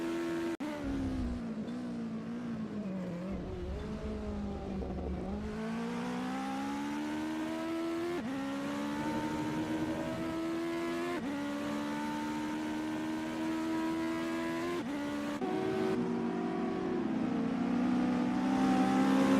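Race cars at a Legends qualifying session roar past, engines rising and falling in pitch as they accelerate through gears, loud and continuous with overlapping cars throughout.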